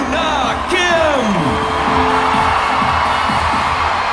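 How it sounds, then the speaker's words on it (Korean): Arena crowd roaring with applause, whoops and cheers as figure skater Yuna Kim appears at a skating show, a loud, sustained wall of noise with scattered shouts. "박수 소리 그리고 환호 소리가 대단합니다"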